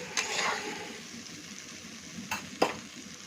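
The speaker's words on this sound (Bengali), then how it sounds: "এখানে কিন্তু আমি হলুদ গুঁড়ো, লঙ্কা গুঁড়োটা ঢেলে দিয়েছি। দেখুন, এইভাবে এটা আমি ভেজে নিচ্ছি।" Turmeric and chilli powder frying in hot oil for a mustard hilsa curry, a steady close sizzle with a few sharp clinks of a spoon or spatula against the pan near the end, no talking.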